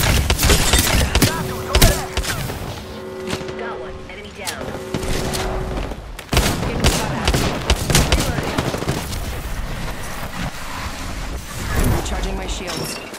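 Gunfire crackles through a video game shootout, with repeated bursts and heavy booms thumping throughout. The shots sit under constant game voice lines and effects, near and loud, with no pause.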